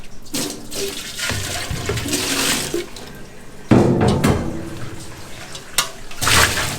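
Water runs from a faucet during hand washing, a close, loud splashing stream that shifts in intensity as the hands move through it, with brief bursts and drips and no talking.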